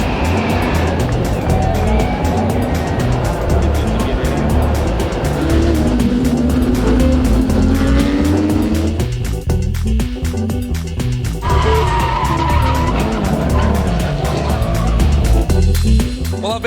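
Champ cars race past on the Gold Coast street circuit beside the beaches. Loud engines roar and whine with rising and falling pitch as cars sweep by one after another, over a constant crowded trackside din.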